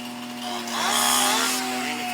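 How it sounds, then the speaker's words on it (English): A chainsaw working on a big tree during a tree removal, its steady high engine whine swelling as the chain bites into the wood, loud and close. "Here's the first of the chainsaws."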